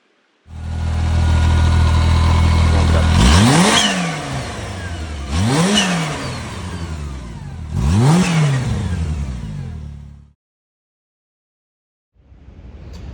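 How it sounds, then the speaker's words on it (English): A supercharged Kawasaki Teryx H2 off-road vehicle idles loudly, then revs hard three times in quick succession, each rev rising and falling, before cutting off into silence. "Let's get it fired up and hear that supercharged engine."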